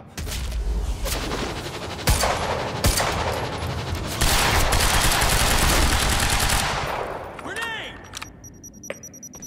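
Sustained automatic gunfire from the video game Quantum Break, loud and dense bursts with sharp shots punctuating the stream, dying away near the end into a few scattered sounds.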